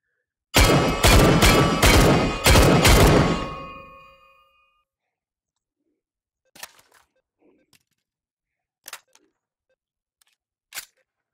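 Several loud, rapid gunshots in the H3VR virtual reality shooter, fired in a quick burst of about four bursts close together, followed by near silence with a few faint isolated clicks.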